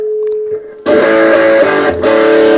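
A loud, heavily distorted electric guitar roars through a Marshall 8010 amplifier cranked to maximum gain, sustained crunchy chords after a quiet start, with a brief dip near the end before the saturated tone returns.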